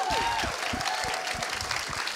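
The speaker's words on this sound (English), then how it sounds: "so I'd love to give Janice Engel a round of applause." Film festival audience applauding a film director, a steady wash of clapping across the hall with a few whoops and cheers rising over it.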